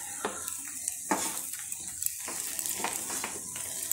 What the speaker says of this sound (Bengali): দিয়ে এটাকে আমি গুঁড়োটাকে মিক্স করে দিচ্ছি।